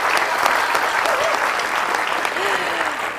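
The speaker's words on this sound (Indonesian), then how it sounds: "Kita berikan tepuk tangan sekali lagi untuk teman-teman kita" A studio audience gives sustained applause for school students from Sekolah Alam Parung Bogor during a television talk show, steady clapping with voices mixed in beneath it.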